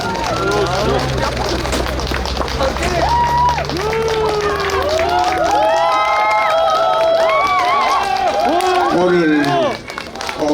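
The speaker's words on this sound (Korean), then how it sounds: "박수 좀 주세요." Crowd noise at an outdoor Korean political street-campaign rally, with cheering and scattered clapping under a busy hubbub of voices and chatter, loud and sustained throughout.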